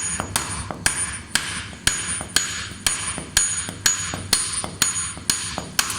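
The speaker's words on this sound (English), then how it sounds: "I will just try to make a little smack on the nut, and then it should come out." A hammer strikes a rusty suspension nut on a BMW Isetta about a dozen times in a steady, evenly spaced rhythm. The hits are sharp, close and loud over a low background hum.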